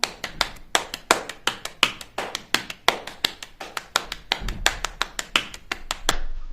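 Children in a younger-group music lesson pat their hands on their knees to imitate rain, a steady run of sharp, close slaps for several seconds that ends in a softer rustle.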